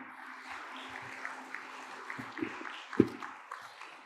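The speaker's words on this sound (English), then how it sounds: "I request to give a big applause and welcome" Faint, distant applause from a conference audience at a United Nations opening session, a soft continuous patter of clapping with a few sharper claps near the end.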